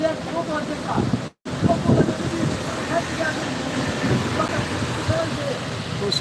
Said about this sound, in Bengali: দমকা হওয়া বইছে এই অঞ্চলে রাতের বেলা আকাশের অবস্থা আরও চরম খারাপ হবে বলে ধারণা করা হচ্ছে